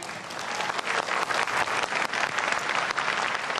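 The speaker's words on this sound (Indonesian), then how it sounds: "Boleh tepuk tangannya?" Supporters at Indonesia's fifth 2019 presidential and vice-presidential candidate debate fill the hall with loud, dense, continuous applause, a thick wash of overlapping claps with no voice on top.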